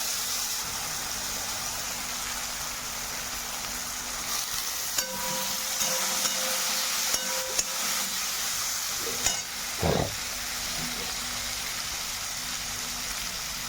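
Chopped tomatoes and potatoes frying in a pan for masale bhat, a steady close sizzle that runs throughout, with a few faint scrapes and knocks from stirring and a low background hum.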